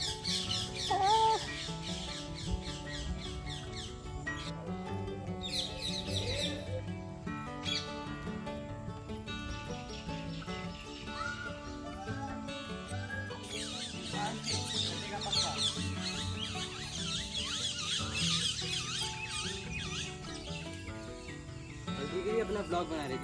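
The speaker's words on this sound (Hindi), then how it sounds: "इधर लोगों से ज़्यादा पक्षियों की आवाज़ आ रही है।" Birds calling around Vrinda Kund in Vrindavan, a busy, continuous mix of chirps and calls over a crowded outdoor background where people can be heard talking.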